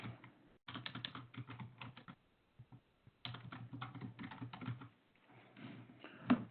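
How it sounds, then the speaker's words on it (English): Typing on a computer keyboard during a Linux command-line lesson, with bursts of quick, close key clicks separated by short pauses and one brief silent gap, and no talking. "are you guys still typing with me?"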